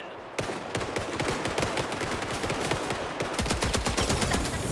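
Dense automatic gunfire rattles in fast, continuous bursts near and loud during a firefight at a Shanghai hotel in Indiana Jones and the Great Circle, with a brief lull before the firing intensifies again.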